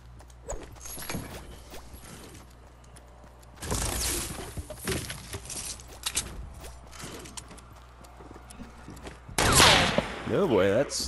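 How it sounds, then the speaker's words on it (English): Sniper rifle shots in Fortnite, a video game: a few loud, sharp blasts spaced seconds apart among busy in-game effects, with the last crack the loudest. "that sniper shot hit right behind you"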